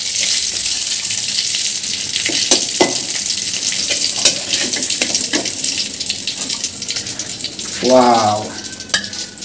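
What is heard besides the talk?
fish frying in a pan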